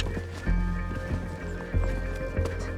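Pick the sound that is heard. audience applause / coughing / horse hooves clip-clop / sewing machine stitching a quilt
horse hooves clip-clop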